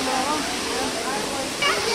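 Continuous broad roar of a waterfall at a dam, steady and fairly loud, with people talking over it.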